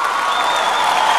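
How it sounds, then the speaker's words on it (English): Brief burst of audience clapping at a comedy show, a steady, fairly loud patter of many hands with no pauses. "we'll stand up and clap for him"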